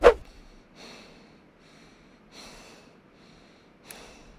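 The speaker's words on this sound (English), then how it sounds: "You know, I can hear you breathing." Soft breaths repeat at a slow, steady pace, four faint inhales and exhales in a quiet room after a brief sharp noise at the start.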